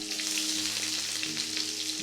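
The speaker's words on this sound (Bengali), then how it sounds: "আর দিয়ে দিব এই যে পাতলা পাতলা করে কেটে নিয়েছি পেঁয়াজ দিয়ে" Thinly sliced onions frying in about half a cup of oil for lote fish, a dense, steady close-up sizzle that holds evenly for a couple of seconds.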